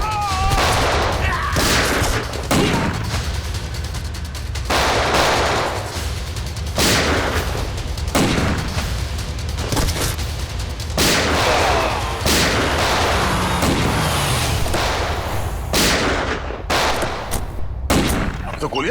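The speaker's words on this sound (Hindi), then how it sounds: "तो गोलियां चल रही हैं।" Repeated loud gunshots crack out in a tense TV crime-drama scene, a burst of sharp near reports in uneven clusters over a dense rumbling background, with brief voices in between.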